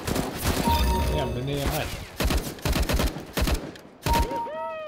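Gunfire in the video game CS:GO, Arms Race mode: bursts of rapid shots and volleys crack out in clusters, loud and close, with players talking over and between them.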